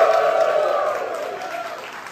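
Applause and cheering from a large, enthusiastic crowd of Wizkids fans at a fan-appreciation stage event, a steady, dense clatter of clapping with voices mixed in, loud and close throughout.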